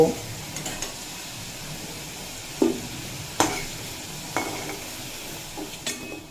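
Potatoes frying in oil until reddish, with a steady sizzle under a few sharp clinks and scrapes of a utensil against the pan at intervals.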